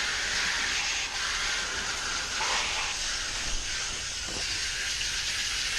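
Water sprays steadily onto the coil of an outdoor air conditioning unit during a cleaning rinse, giving a loud, continuous hiss that holds close and even from start to finish.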